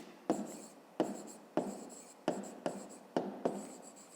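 Pen or chalk writing out a math solution, a series of about seven quick scratchy strokes in an uneven rhythm, close and clear with no talking.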